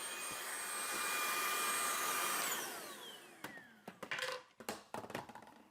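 A Tineco cordless vacuum cleaner runs with a loud, steady motor whine, then spins down over a couple of seconds, followed by a scatter of sharp clicks and handling knocks.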